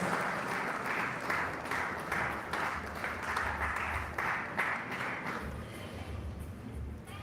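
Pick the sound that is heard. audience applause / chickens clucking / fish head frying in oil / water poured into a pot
audience applause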